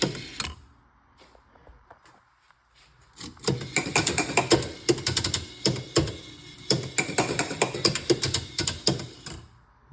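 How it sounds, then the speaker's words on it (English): A Midway Joker Ball pinball machine's scan motor runs after a short quiet pause, setting off dense rapid mechanical clicking and ratcheting from relays and gears in close, irregular bursts. "You've got your scan motor. Takes a while to get to the other position."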